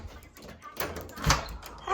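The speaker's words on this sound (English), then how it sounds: "Someone's just came to my door with a parcel." A house door is opened to take a parcel delivery, with a short thud and rattle of the door close by under ongoing indoor background noise.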